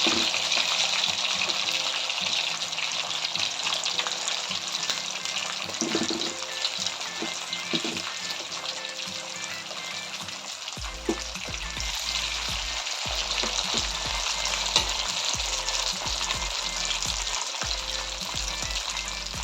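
Continuous loud sizzling and crackling of chicken frying in hot oil, with occasional low thumps and stirring noises.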